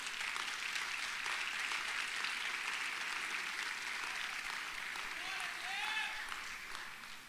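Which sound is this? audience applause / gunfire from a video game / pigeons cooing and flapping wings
audience applause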